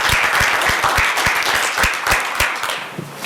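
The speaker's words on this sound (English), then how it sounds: "give them a round of" City council workshop attendees clap for a city team, a loud, close round of applause with distinct individual hand claps in a quick irregular rhythm, fading slightly at the end.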